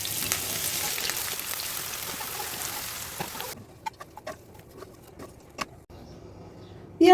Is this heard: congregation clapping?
no